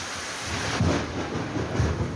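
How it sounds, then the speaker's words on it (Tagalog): A thunderstorm with heavy rain in General Santos City, with a constant hiss of downpour broken by two low, rolling thunder rumbles close together. "Sinabayan pa yan ng pagkulog at pagkidlat."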